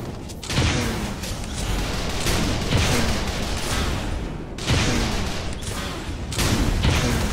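Heavy gunfire and explosive blasts in the sci-fi shooter Tribes Ascend, a loud, noisy barrage of booming shots coming in several surges with short dips between them.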